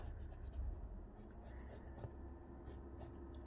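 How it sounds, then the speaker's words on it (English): A pencil scratching a two-inch line across fabric while preparing a zippered bag, a close, dry stroking in several short bursts over a quiet room hum. "I'm going to draw a 2-inch line with my pencil across here."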